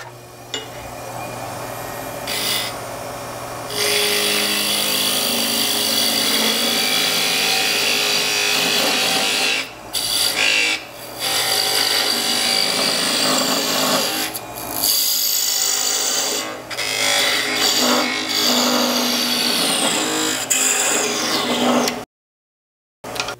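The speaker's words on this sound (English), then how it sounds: "I would use my diamond-shaped parting tool a little bit and just face this off and square up the end of this blank" A diamond-shaped parting tool faces off and squares the end of a wood blank on a lathe, giving a loud, continuous rasping scrape with a few brief breaks and a short silence near the end.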